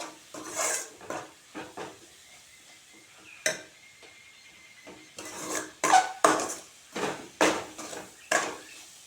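Spices roasting in a pan in a Punjabi village kitchen are stirred with a utensil, giving irregular close scraping and clinking strokes, some quick clusters and some spaced apart, over a faint background hiss with no talking.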